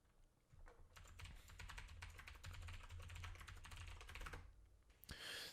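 A password is typed on a computer keyboard as a quick, close run of light key clicks and taps that fills several seconds, ending with a sharper final keystroke.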